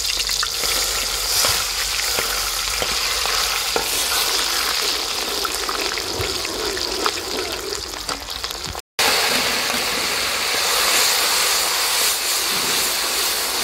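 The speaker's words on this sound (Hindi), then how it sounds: "तेल को बहुत ज़्यादा गर्म कर लिया है और झटपट से अपनी रेसिपी बनाना शुरू कर दिया।" Spices fry in very hot oil for a village-style fish recipe, a steady loud sizzle and crackle with stirring scrapes throughout, broken by one brief dropout near the middle.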